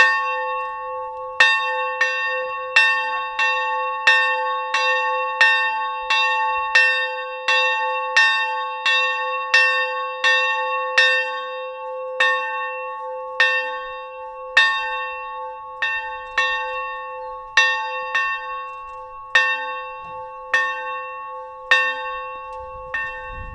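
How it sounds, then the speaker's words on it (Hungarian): A newly blessed church bell rings alone in a steady, resonant series of strikes, each stroke sustaining and fading into the next, with no talk over it. "Áldja meg az Úristen ezt a harangot, az Atya, a Fiú és a Szentlélek nevében."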